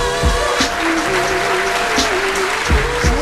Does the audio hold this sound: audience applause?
yes